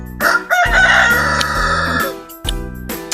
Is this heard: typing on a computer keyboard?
no